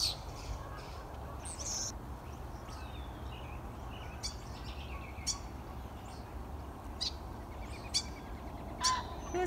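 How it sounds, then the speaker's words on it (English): Starlings chatter and whistle in short, scattered bursts outdoors, with a woodpecker among them, fairly faint above a steady rumble of wind and distant traffic. "I definitely hear a woodpecker and the starlings."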